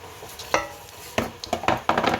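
Hot oil sizzles as cinnamon, cardamom, cloves, mustard seeds and fennel are dropped in for mutton curry, with a soft steady crackle and several sharp spattering pops and utensil taps close by.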